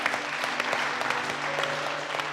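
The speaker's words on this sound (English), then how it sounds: "Give yourselves a round of applause" A dense, steady wash of applause from the contestants of a cooking competition, with overlapping claps and a faint tonal hum running beneath.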